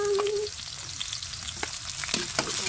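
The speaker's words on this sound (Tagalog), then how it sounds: "Unahin ang sibuyas. Ganyan ang paggigita. Pagkatapos isunod ang bawang." Onion and garlic sauté in hot oil in a pan for pinakbet, a steady close sizzle broken by a few clinks and stirring scrapes, with no talking.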